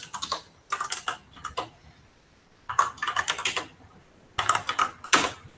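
Bursts of typing on a computer keyboard during a programming lesson, clattering keystrokes in several quick runs separated by short pauses, close and fairly loud with no talk.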